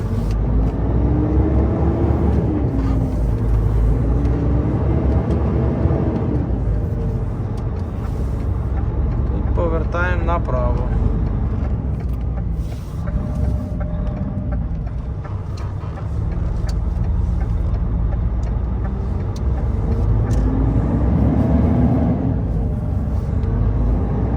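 A dump truck creeps slowly out of a garage, its engine a steady, loud low rumble that carries on throughout with slight swells and a brief hiss near the middle.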